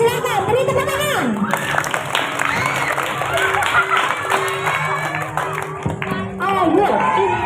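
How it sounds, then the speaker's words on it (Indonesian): Applause and cheering from a school audience at a Siwaratri reflection event at SDN 2 Dauh Puri, with shouts and voices over steady clapping throughout, and music playing alongside. "silakan beri tepuk tangan"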